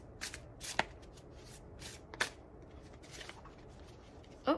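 Tarot cards are shuffled in short riffling bursts, quiet and close, with soft pauses between each pass.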